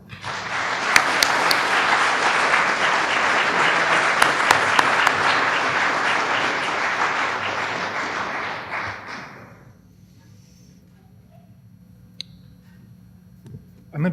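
An audience at a conference gives sustained applause welcoming a speaker, a dense wash of clapping lasting about nine seconds before tapering off into quiet room tone with a few faint thumps.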